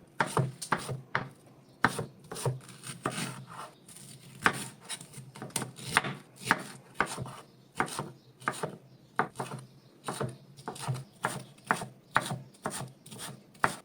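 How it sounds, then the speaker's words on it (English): Knife chopping peaches into small cubes on a cutting board, a long run of rapid, crisp knocks in uneven bursts with brief scraping between, close and steady, with no talking. "go ahead and chop up the peaches into small cubes just like this"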